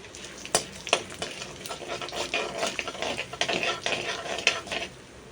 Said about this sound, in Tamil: அது கூட மிளகு, ஜீரகம், தாளிச்சுக்கோங்க.